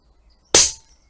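A Daystate Air Wolf electronic air rifle fires a Webley Acumax pellet at power level 2, giving one sharp, loud crack that decays quickly into near silence.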